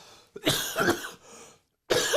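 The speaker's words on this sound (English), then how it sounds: "I'm coughing my head off" Harsh coughing close to the mic: a rough fit of several coughs, a brief pause, then another burst.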